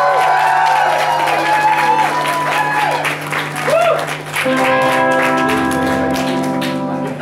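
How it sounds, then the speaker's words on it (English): Concert audience at The Forum in Tunbridge Wells applauding a rock band's new bassist. Dense, steady clapping and some cheering fill the room over sustained ringing instrument tones. "Let's give him a round of applause"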